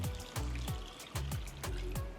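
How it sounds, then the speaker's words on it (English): Water poured into a pot of sliced peaches for a simple syrup, a steady close trickle with repeated gurgling pulses as the stream hits the fruit and liquid. "To that, I'm going to add 4 cups of water."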